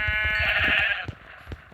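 Sheep bleating in the Minecraft Pocket Edition video game, a loud, wavering digital bleat lasting about a second, followed by a few short clicks and thumps with no talk.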